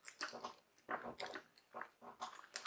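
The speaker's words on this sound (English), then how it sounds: "I mean, look, I'm chewing on wax." Hard, flavorless taffy candy chewed close up, with a steady series of sticky, crunchy bites and jaw movements in irregular bursts and no talk.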